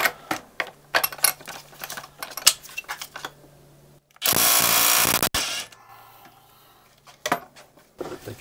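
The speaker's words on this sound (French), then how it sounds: "Avec une péteuse, putain, c'est bien." An impact wrench gives one loud, sustained burst of about a second while loosening bolts during a camshaft change on a Ducati 750. The burst is set among close, sharp clanks and taps of metal tools in a workshop.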